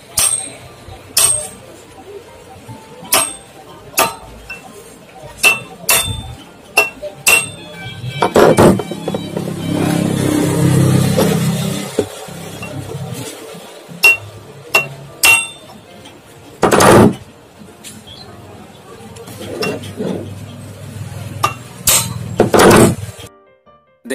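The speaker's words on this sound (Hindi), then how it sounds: "अब मैं इसे हथौड़े से ठोक कर अंदर करूँगा।" Metal hammer blows drive a pipe onto a new impeller of a domestic monoblock water pump, landing as a series of sharp, close clinks and bangs with irregular gaps and a few heavier strikes, plus some handling noise in between.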